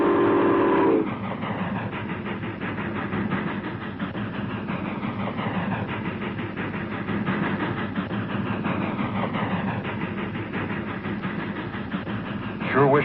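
A train rumbles past steadily for several seconds with a continuous rolling clatter, following a brief whistle-like tone at the start.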